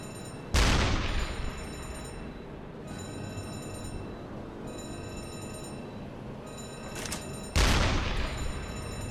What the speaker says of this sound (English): is just to deck gun this thing down.